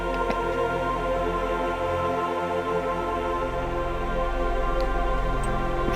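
Self-made MIDI tune used as a shout-out sound, a steady sustained synth drone with layered held tones and very long attack, playing alone at an even level with a few faint ticks on top.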